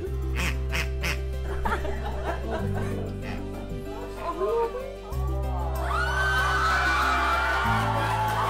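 A rubber duck given as a wedding gift squeaks in short, bright bursts near the end, set against a low constant hum, with laughter and chatter from people nearby.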